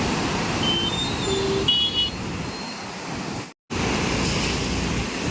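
Water rushes from eleven open gates of Khadakwasla dam during the rainy season, a dense, continuous roar heard from a distance, steady throughout apart from one brief dropout near the end.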